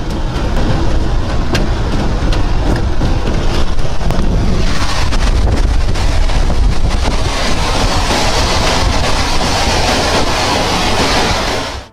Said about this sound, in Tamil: Violent tornado, violent.